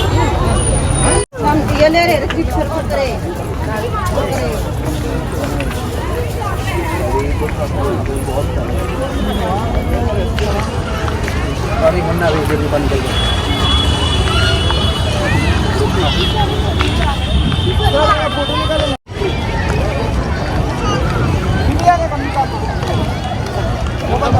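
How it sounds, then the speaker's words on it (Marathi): A dense, steady crowd hubbub fills the stall area beside Ambedkar Park in Lucknow, packed with holiday visitors: many overlapping voices and footsteps nearby, continuous and loud apart from two brief dropouts. "आज फार गर्दी आहे आता मुलांना सुट्टी लागली त्यामुळे फार गर्दी आहे इकडे"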